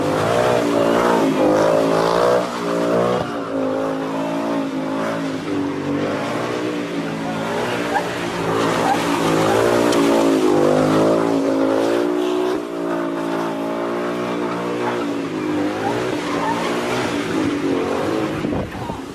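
Ford Mustang 5.0 doing donuts, its engine roaring and revving continuously at high volume with a rising and falling pitch and tire noise mixed in.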